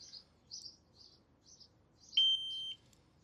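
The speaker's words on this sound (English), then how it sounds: "So I'm sure the one beep means it's armed." A motorcycle disc lock alarm gives a single clear electronic beep as it arms, standing out over a quiet background with faint chirping birds earlier on.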